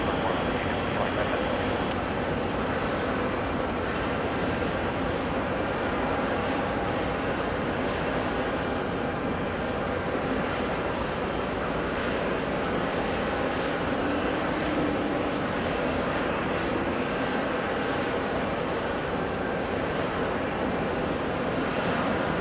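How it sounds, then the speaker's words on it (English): A Delta Boeing 737 arrives on runway 4 at JFK airport, its engines making a steady, distant broadband roar that holds evenly throughout. "Delta 737 and arrival on 4"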